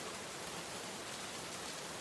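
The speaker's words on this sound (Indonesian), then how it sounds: "hanya suara hujan yang bisa terdengar." Steady rain falling across a wide area, a dense even hiss that holds at the same level throughout with no distinct drops or other sounds.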